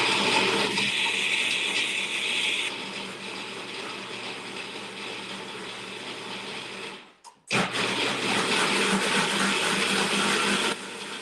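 A Cuisinart food processor whirs steadily and loudly, its motor drone cutting out briefly for a moment before restarting and running on evenly with no talk.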